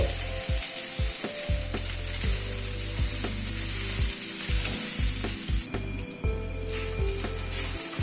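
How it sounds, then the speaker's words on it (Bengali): Sabudana mixed with roasted peanut powder and stirred in a hot pan, giving a steady sizzle with repeated scraping, ratchet-like strokes of the spatula throughout and no voices. "সবকিছুকে দিয়ে আবার একটু নাড়াচাড়া করে নিচ্ছি"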